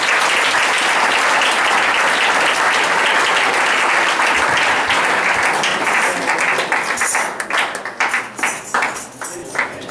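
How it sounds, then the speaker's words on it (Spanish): Sustained applause from a church congregation for the actors, a loud, dense wash of clapping that holds steady and then thins into scattered individual claps as it fades. "Un aplauso para los actores."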